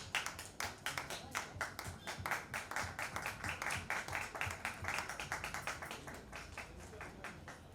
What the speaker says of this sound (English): Can we have a big applause for Miss Gul Panag on stage?